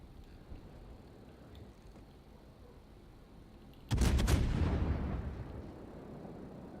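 A cruiser in World of Warships fires a salvo of armour-piercing shells, a sudden loud, close boom of several overlapping blasts that rolls off into a long fading rumble after quiet background hum.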